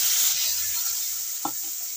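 Ground spice paste with tomato hits hot oil left from frying small fish, with black cumin (nigella) already in; a steady close hiss of sizzling oil with a brief scrape midway.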